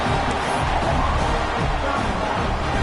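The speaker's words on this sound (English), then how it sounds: "this crowd now ready to get behind them" A packed stadium crowd at an Auburn vs. Georgia college football game roars and cheers loudly and continuously before a kickoff, a dense wall of massed voices without pause.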